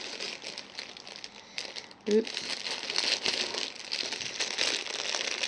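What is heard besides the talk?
opening the plastic packaging of hair clippers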